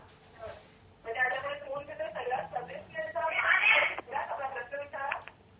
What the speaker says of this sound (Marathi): पण त्याआधी आपण एक फोन घेतोय कैलास परदेशी यांचा नाशिकवरून।